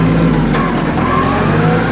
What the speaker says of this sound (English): you can wind this up and shift it like a car